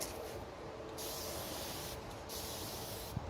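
Faint hissing bursts from a spray mister applying walnut oil wood stain, several short sprays in a row with brief gaps between them, fairly quiet and close.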